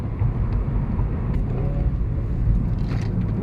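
A car accelerating up a highway on-ramp gives a loud, continuous low engine rumble mixed with road and wind noise, steady throughout without any talk.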